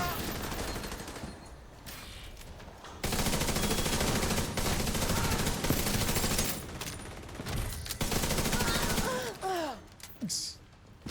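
Rapid automatic gunfire from a video game, long sustained bursts with brief pauses and a few breathy gasps.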